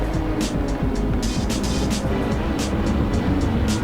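GT3 race cars in the Assetto Corsa sim at the Nürburgring brake and jostle into the NGK chicane, engines roaring loudly and continuously with rapid gear-change blips and revving bursts.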